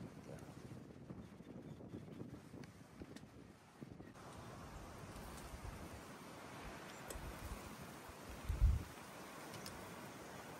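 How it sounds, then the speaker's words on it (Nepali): Steady cold wind blowing across the microphone with a low rumble throughout, plus a brief louder gust or bump near the end, near Ebro Falls, New South Wales, Australia. "हावा हेर न, चिसो हावा चलिरहेछ।"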